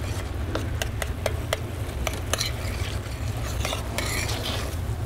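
Cherries and cherry juice cooking in a pan for tableside cherries jubilee, a steady low simmering sizzle with light scattered clinks and scrapes of a utensil stirring against the pan.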